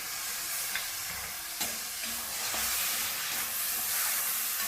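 Tamarind juice poured into a hot pan while cooking capsicum rice, giving a steady loud sizzle and hiss with occasional stirring scrapes, close and continuous without talk.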